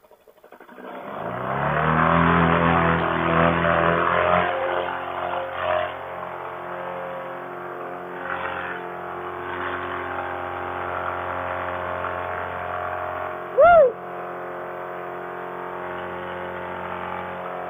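A paramotor engine spins up loudly for takeoff, then settles into a steady buzzing drone that holds for most of the stretch, with a brief sharp spike near the end; no voices.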